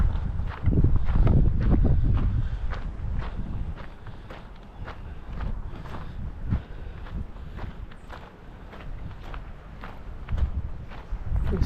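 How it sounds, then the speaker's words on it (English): Strong wind buffeting the Jersey coast, heavy low gusty rumble against the microphone that surges and eases, with scattered thumps like footsteps on a trail and no speech. "It's really strong winds today."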